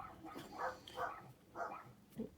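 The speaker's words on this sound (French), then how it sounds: "Il y a mes chiens qui aboient après les chevaux certainement." Several dogs bark faintly in the distance, probably at horses. The barks come as soft bursts spaced about half a second apart.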